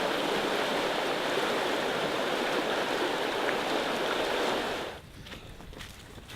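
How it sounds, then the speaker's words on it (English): River rapids on a backcountry canoe route in Algonquin rushing in a loud, steady broadband roar that drops sharply near the end as if moving away, leaving quieter ambience. "The river is rapids here, so that's why we have to make a 1 kilometer portage all the way around this."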